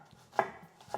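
A knife chops sweet Figueras onion into small cubes on a board, a single sharp close chop with faint taps around it, no voices.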